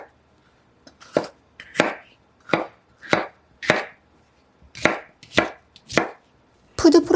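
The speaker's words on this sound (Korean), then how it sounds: "대강 썰어 주시고요." A knife roughly chops deseeded paprika on a cutting board, sounding as about nine distinct, evenly spaced crisp thuds, close and clear against near silence, with a scraping clatter at the end.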